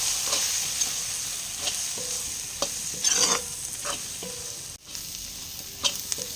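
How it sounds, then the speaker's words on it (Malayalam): Fennel powder and spices fry in a pan as they are stirred: a continuous soft sizzle with repeated scraping strokes of a spoon, one louder rustling pass, and no talking. "ഇനി ഇതെല്ലാം കൂടെ ഒന്ന് ഇളക്കിയെടുക്കണം"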